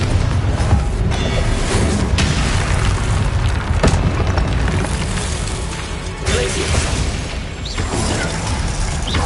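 Confringo explosive spell blasts in Hogwarts Legacy, loud booming bursts and crashing impacts amid dense combat noise and mechanical clatter, several hits across the stretch.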